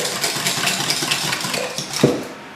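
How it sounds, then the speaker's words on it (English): A spoon or whisk scrapes and clinks steadily around a bowl, stirring an egg mixture with melted butter and Vegemite, with a brisker knock near the end. "I added the melted butter and the Vegemite in the egg mixture. And now we give a good stir."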